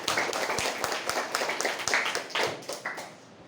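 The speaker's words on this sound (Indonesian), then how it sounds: "Tepuk tangan untuk Rehan" A class of pupils clapping together, a brisk crowd of hand claps that swells and then tapers off over a few seconds.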